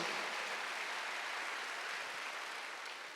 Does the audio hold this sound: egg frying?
no